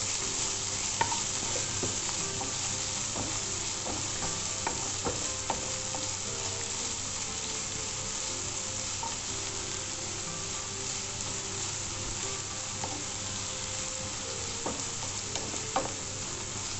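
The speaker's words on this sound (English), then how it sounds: "we need to continuously stir till the onions are semi-cooked" Onions and salt fry in a pan while being stirred continuously, giving a steady soft sizzle with scattered light scraping clicks, close and fairly quiet, no voices.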